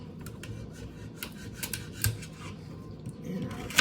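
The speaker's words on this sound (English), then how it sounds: "I'm just gonna cut the ends off, and I'll slice it down the middle" A vegetable on a home kitchen cutting board has its ends cut off and is sliced down the middle, making a few quiet knife taps and crisp cuts over a steady background hum.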